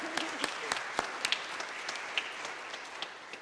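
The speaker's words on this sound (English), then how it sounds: "Let's give ourselves and our youth a warm and grateful round of applause." An audience at a Unity of Nashville winter solstice gathering gives a round of applause, with sparse, scattered claps ringing out in a fairly faint, reverberant room.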